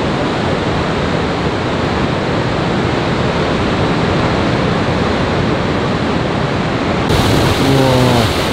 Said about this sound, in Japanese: もうすごい波来てるね